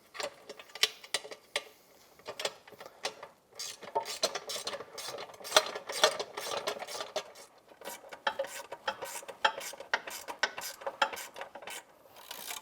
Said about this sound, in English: So let's get them tightened up now.